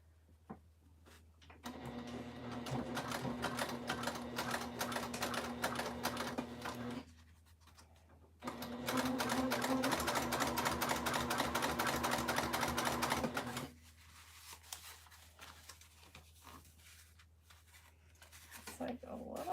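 A sewing machine bastes fabric for a Willow wristlet in two steady, whirring runs of about five seconds each, separated by a brief pause, with quieter handling noise before and after.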